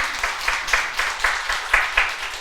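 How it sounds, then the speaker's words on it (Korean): A church congregation at an anniversary thanksgiving service claps together in a fast, even rhythm. The applause is loud and close and runs continuously with no one speaking over it. "우리 뜨겁게 박수 영광 돌립니다"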